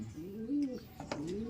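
Pet pigeons or doves give soft, close, rolling coos, two or three warbling calls in quick succession.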